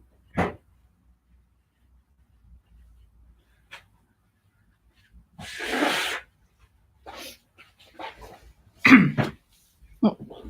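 A person blows their nose into a tissue indoors, with a few short sharp bursts and one longer noisy blow amid quiet pauses and faint rustling, fairly close to the microphone.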